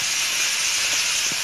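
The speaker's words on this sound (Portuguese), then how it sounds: "vou refogar um pouquinho." Dried marjoram hits hot oil in a pan, giving a brief, steady, bright hiss of sautéing up close with no voices.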